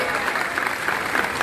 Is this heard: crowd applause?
yes